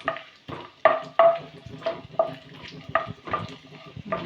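Raisins frying in a pan while making carrot halwa, a low sizzle punctuated by sharp metallic spoon clinks against the pan at irregular intervals, close, with no talking.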